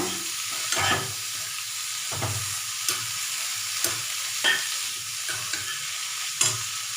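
Bitter gourd (pavakkai) stir-fries on a medium flame, giving a steady soft sizzle broken by repeated spatula scrapes and taps against the pan at an irregular pace, with no talk.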